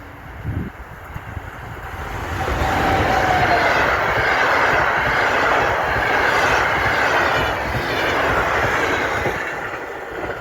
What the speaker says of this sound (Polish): EU-160-019 przeleciał w niezłej zadymie z pociągiem Intercity Zamojski przez przystanek Bydgoszcz Osowa Góra